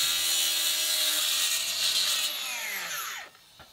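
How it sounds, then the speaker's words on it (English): A DeWalt 60V Max 9-inch cut-off saw grinds through a concrete block with a harsh, loud, high-pitched whine that holds steady, then spins down and fades out near the end. "cut the first side, flip the block over, and then make the second cut."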